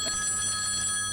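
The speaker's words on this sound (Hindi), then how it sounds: "अरे फोन बज रहा है।" A telephone rings with a steady, bright electronic tone, short and fairly quiet.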